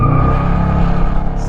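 Dodge Charger Scat Pack muscle car accelerating hard from a standstill, a loud, deep engine roar heard close from inside the car for a brief moment.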